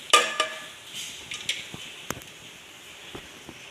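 Dry dal lentils tipped into a pressure cooker for sambar, a quick clattering rattle of grains against metal followed by a few lighter scattered clinks and taps, faint and close, with no voices.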